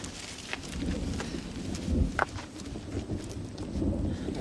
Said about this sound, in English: The storm's coming out of the north now.